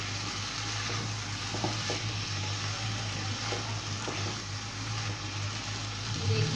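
Ketchup gravy for chicken Manchurian sizzles steadily in a hot pan, a continuous even frying hiss with a low hum underneath and a few faint stirring scrapes.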